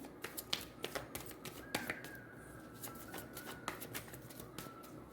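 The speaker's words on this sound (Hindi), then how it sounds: "तो हम लोग ये बहुत सारे कार्ड्स नहीं लेंगे, एक ही कार्ड को निकालेंगे।" Tarot cards are shuffled and drawn by hand in a quiet room, giving a run of crisp, close riffling flicks and soft slaps in an irregular rhythm.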